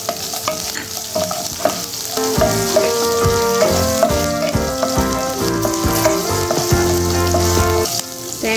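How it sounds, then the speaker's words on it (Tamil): Green chillies, ginger and garlic fry and sizzle in a pan with steady crackling and occasional stirring scrapes, close and continuous, with strong tonal music running over it. "நல்லா ஃப்ரை பண்ணிக்கலாங்க"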